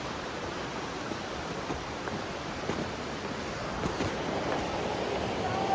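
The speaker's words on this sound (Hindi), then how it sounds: "क्या आवाज आ रही है यार पानी की" Loud, constant rush of water roaring nearby, a broad steady wash of noise with no clear breaks.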